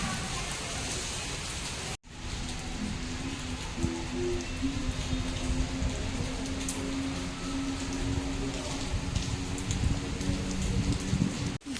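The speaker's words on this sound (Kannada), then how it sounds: "ಅದಕ್ಕೆ ಮಳೆ ಬರ್ತಾ ಇದೆ." Steady rain pours near an apartment, a dense, even hiss of drops on surfaces that runs continuously apart from one brief cut, with no talking.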